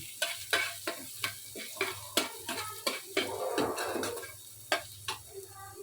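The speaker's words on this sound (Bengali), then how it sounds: "রসুনটাকে একটু ভালোভাবে ভেজে নিতে হবে" Chopped garlic fries in a pan to a rhythmic series of spatula taps and scrapes against the metal. A louder burst of sizzling swells briefly in the middle.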